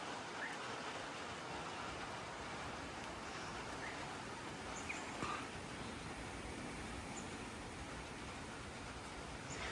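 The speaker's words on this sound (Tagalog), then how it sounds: "Minsan lang umuulan tas humahangin" Steady rain and gusting wind wash across Australian countryside in a constant broadband hiss, faint and unbroken, with occasional soft patters and no voices.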